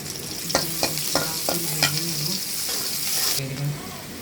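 Chopped onion and green chilies frying in oil in a wok make a close, constant sizzle, broken by repeated scraping stir strokes, with a faint voice briefly audible underneath.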